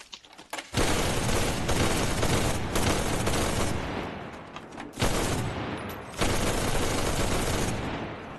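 A machine gun in the video game Enlisted is hip-fired in long, loud sustained bursts with brief gaps between them, dense and close.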